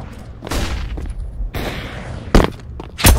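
A flashbang grenade in CS:GO detonates with a sharp burst, part of a series of loud bangs and gunfire cracks during competitive play, the last blasts close and heavy.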